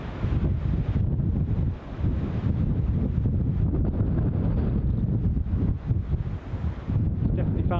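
Strong wind at Newcastle International Airport roaring into an outdoor microphone, a loud, continuous low buffeting rumble with gusty surges throughout.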